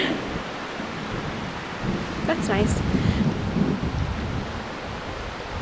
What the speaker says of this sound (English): There's some thunder.